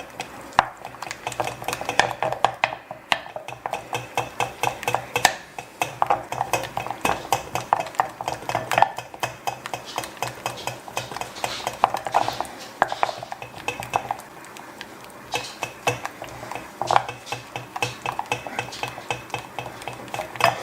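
Eggs being stirred with a spoon in a pot over heat while making eggs Benedict, producing fast, continuous clinking and scraping of metal against the cookware, close and steady for the whole stretch with no voices.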